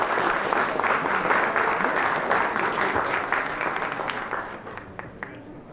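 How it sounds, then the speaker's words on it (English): Applause for ROTC cadets and service members at a district community meeting, a dense burst of clapping that thins and fades toward the end, with no talk over it. "let's also give a round of applause to all the men and women in uniform across the globe and here at home"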